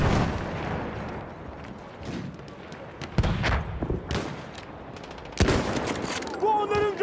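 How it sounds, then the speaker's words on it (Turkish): Gunfire in Battlefield 1 on the Suez map: machine-gun bursts and heavy artillery thumps crackle in loud, irregular clusters, with sharp reports rising over a rumbling battlefield background. "Orada bir makinalı tüfek var."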